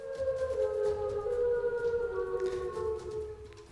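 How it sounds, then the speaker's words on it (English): Warning siren wailing across a small town in a sustained, slowly wavering tone with layered pitches, moderately distant and steady for several seconds, with no voices. "A warning siren rips through the small town."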